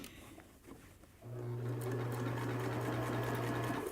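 A sewing machine starts after a quiet moment and stitches fabric in one continuous steady hum with a rapid needle clatter, close and clear for a few seconds.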